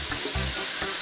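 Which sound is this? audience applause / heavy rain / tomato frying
tomato frying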